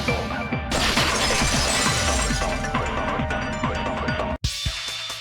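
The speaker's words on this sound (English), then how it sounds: "If it wasn't the window, then what broke to make that sound? A vase." A vase shatters in the video game Danganronpa 2: Goodbye Despair, a loud close crash followed by seconds of scattering fragments, with no voices.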